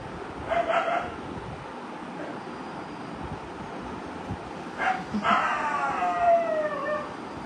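Dogs bark outside in a few scattered bursts, fairly distant, over a steady background hum.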